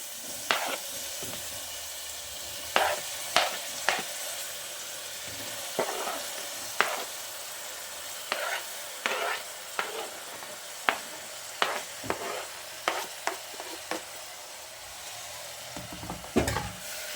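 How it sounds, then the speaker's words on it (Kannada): Tomatoes frying in oil in a pan for a drumstick gravy, a steady soft sizzle with sharp stirring scrapes and clicks of a utensil against the pan at irregular intervals, close by with no talk. "ಟೊಮೊಟೊ ಚೆನ್ನಾಗಿ ಚೆನ್ನಾಗಿ ಫ್ರೈ ಆಗಬೇಕು ಸಾಫ್ಟ್ ಆಗಬೇಕು ಟೊಮೊಟೊ"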